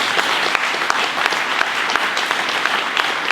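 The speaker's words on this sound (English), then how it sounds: "let's give our panel a round of applause" Loud, sustained applause from a conference audience for a panel at a city-building leadership event, a thick crackle of many hands with distinct sharp claps popping out, steady and close throughout.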